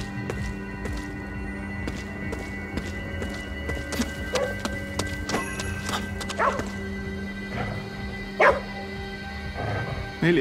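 A dog barks in the video game Ghostwire: Tokyo, giving sharp, repeated barks at irregular intervals over a steady bed of sustained game music and ambient tones.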